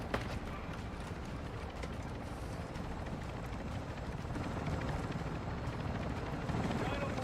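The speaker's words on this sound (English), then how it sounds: "Here comes the helicopter." A helicopter arriving in the Call of Duty DMZ game, its steady rotor chop and engine drone filling the whole stretch and growing slightly louder, with a voice talking over it.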